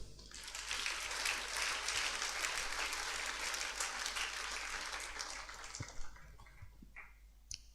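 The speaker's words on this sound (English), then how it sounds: "Clap for yourself." A church congregation claps and applauds together, a dense, sustained wash of clapping that fades out over several seconds, followed by a few scattered last claps.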